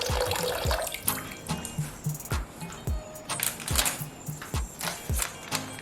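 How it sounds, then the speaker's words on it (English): A kitchen sink fills with water from the tap while fresh callaloo is being prepared, giving a steady rush of running water broken by a string of close, sharp knocks and clatters. "Once that is done, I then fill my sink up with some water."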